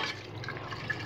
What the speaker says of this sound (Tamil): இப்போ இதில் 1 கப் தண்ணி ஆட் பண்ணி